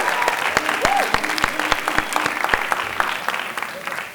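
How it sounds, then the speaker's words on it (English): An audience in a school auditorium gives a round of applause for the tech crew, a dense, even spatter of many hands clapping, sustained and fairly close, with a few voices mixed in. "let's give them a quick round of applause as well"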